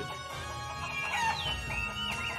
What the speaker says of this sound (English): Wish these chickens would shut up.